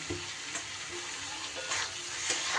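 Young jackfruit and chicken sizzle steadily in hot oil and spices in a pan, a continuous close frying hiss with occasional soft stirring scrapes and no voices.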